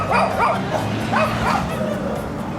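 A dog barks in short yips and whimpers in a busy outdoor street setting in Cuba, several close, sharp cries spread across a steady background murmur of voices and ambient noise.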